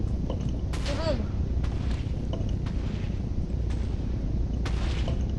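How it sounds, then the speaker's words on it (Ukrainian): Muffled booms from TNT explosions in a TNT Wars video game match thud under a continuous rumble of game noise and background chatter. "біля мене вибух"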